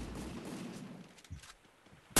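Gunfire in the video game Garena Free Fire, with a low rumbling burst and muffled shots in the first half, a quieter stretch, then a sharp loud gunshot at the very end.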